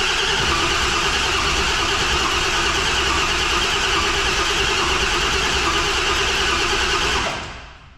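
A car engine turns over on the starter with fuel and power systems switched on, a loud, steady, unbroken churning drone lasting several seconds before it cuts off abruptly near the end, with no talking.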